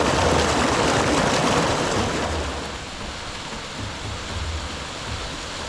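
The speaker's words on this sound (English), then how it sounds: "Okay, nice waterfall." Waterfall on Kilimanjaro along the trail toward Barranco Camp, a steady broadband rush of falling water heard close and loud, easing slightly after the first couple of seconds, with no talking.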